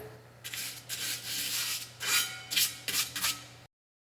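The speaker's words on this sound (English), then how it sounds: "I'm gonna clean up the spindle backing plate, and already chipped a bunch of hardened grease out of here" Scrubbing and rubbing at the crusted old grease on a 1948 Chevy's brake spindle backing plate, heard as short rasping strokes in uneven bursts with a steady low hum underneath.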